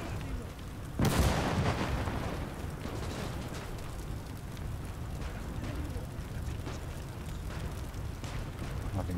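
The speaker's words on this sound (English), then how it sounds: "An explosion, they've lost their guns." A loud explosion bursts out in the WWII strategy game Gates of Hell, a sharp blast about a second in followed by a rumbling battlefield din of distant gunfire and artillery that continues steadily to the end.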